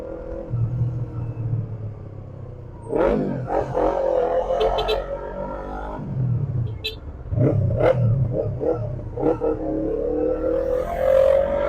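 Heavy, crowded road traffic, with a steady low rumble of car engines and passing vehicles building and fading close by, some accelerating, with no talk.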